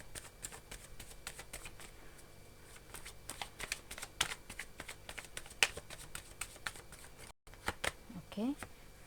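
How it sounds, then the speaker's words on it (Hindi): Tarot cards are shuffled and flipped, giving a close, steady run of soft papery riffles and sharp card snaps, with a brief gap near the end before a few final flicks. "आज के रीडिंग में बार बार कार्ड्स पलटे हो रहे हैं"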